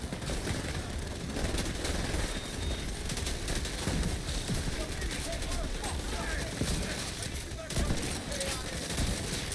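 Gunfire strikes the player's character in a hybrid-build shooter game, with rapid shots crackling continuously under dense game noise and brief spoken reactions.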